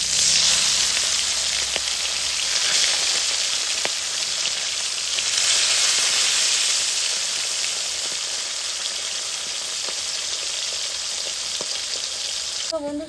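Fish frying in very hot oil in a wok, a loud, continuous crackling sizzle that holds steady throughout, close up and with no talking.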